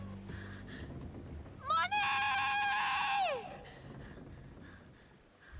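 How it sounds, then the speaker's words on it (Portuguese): Moana, the animated heroine of the Moana 2 film, lets out a long loud scream rising then falling in pitch after a hush, over a quiet low background. "Quando fica um silêncio total, ela dá um berro."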